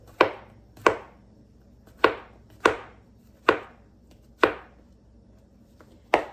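Knife chopping mushrooms on a cutting board, seven sharp, evenly spaced thwacks about every second, each ringing briefly, close and clear with no voices.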